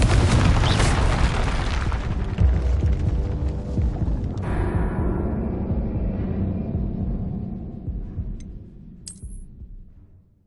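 A Confringo blasting spell goes off as a loud, close, rumbling explosion that roars for several seconds and then slowly fades, with a few faint clicks near the end.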